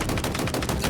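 Rapid, evenly spaced bursts of Commando rifle fire from Halo Infinite, loud and close, roughly eight shots in quick succession.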